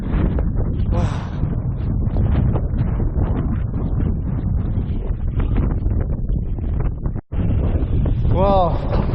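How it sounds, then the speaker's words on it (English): Strong wind on a beach at Sandy Hook, New Jersey buffets the microphone in loud, continuous gusts, with people talking over it. "it's too windy today"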